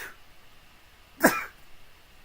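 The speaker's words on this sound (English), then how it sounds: "Sneeze!" A single sharp sneeze bursts out once in an otherwise quiet room, brief and fairly close, with faint background hiss before and after.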